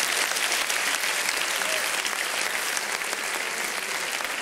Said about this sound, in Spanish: Podéis aplaudir, ¿eh?